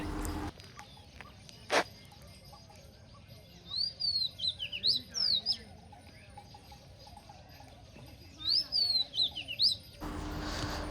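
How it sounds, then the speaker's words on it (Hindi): Sharp, high bird calls ring out on a village morning in Fatehpur, where peacocks roam. They come in two clusters of rapid chirps over a faint, hushed background, with a sharp knock early on. "ये आती हुई तीखी पक्षी की आवाज़ आपका स्ट्रेस एकदम ख़त्म कर देगी वाकई में"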